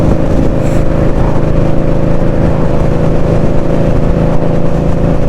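Indian Scout Bobber motorcycle engine running steadily during a spring ride, a loud continuous low drone with wind rush throughout, no talking.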